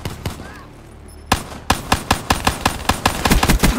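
Rapid gunfire in a shooting video game: a brief shot, a short pause, then a fast, regular string of loud, sharp bursts filling the rest of the moment.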